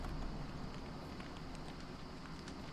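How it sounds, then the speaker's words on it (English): Rain falling in the game Don't Starve: Reign of Giants, a steady, even hiss of drops that holds at a constant level for the whole stretch with no voices over it. "Right as I was talking about it, it starts to rain."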